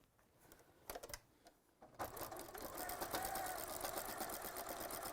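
Sewing machine stitching around appliqué petals while a shirt and pull-on dress are being made: a few short bursts at first, then a steady, continuous rapid stitching run that stays close and fairly loud to the end.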